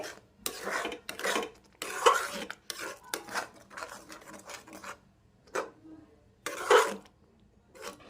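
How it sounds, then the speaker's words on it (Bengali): A spoon scrapes and knocks against a pan while Punjabi-style methi kadhi with besan and yogurt is stirred, in irregular bursts of rubbing strokes with short pauses, close and without talking. "বারে বারে নাড়াতে হবে নালে তলাটায় লেগে যাবে"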